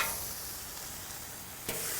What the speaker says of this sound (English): this patty's going to be ugly on the flip